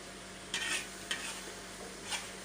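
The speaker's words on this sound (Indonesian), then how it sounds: "Tumis pakai mentega." Chicken sautéing in butter in a pan, a quiet steady sizzle broken by three short stirring scrapes, no voices.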